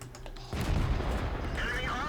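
A tier VI SU-85 tank destroyer in World of Tanks fires its gun, a single loud, close boom with a rumbling tail.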